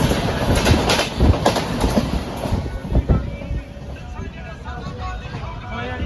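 Steady rumble and clatter of a moving train carriage on a Mumbai to Amritsar journey, heard from inside, with men chatting over the rolling noise.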